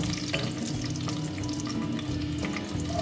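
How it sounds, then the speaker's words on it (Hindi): Onions frying in oil for a pasanday and sweet rice dish give a steady, close sizzle throughout, with occasional light scraping and clinks from stirring. "मैंने ऑयल लेके डाला और मैंने प्याज का भगार किया"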